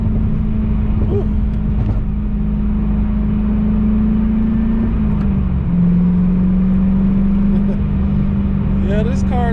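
Steady engine drone from a 1996 Chevrolet Corvette Grand Sport C4 while driving on hilly Pennsylvania roads, a constant hum with a slight pitch drop midway, heard from inside the car with road noise.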